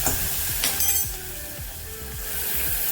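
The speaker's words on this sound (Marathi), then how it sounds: "त्यानंतर आपण हिरवी मिरचीचा जो ठेचा केला होता तो याच्यामध्ये टाकायचा आहे आणि छान खमंग असं आपल्याला खरपूस परतून घ्यायचा आहे" Green chilli thecha fries in hot oil in a pan for a traditional Maharashtrian thali: a constant close sizzle with repeated light scraping clinks of a stirring spoon.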